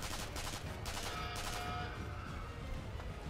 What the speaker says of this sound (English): Suppressing fire, someone behind us.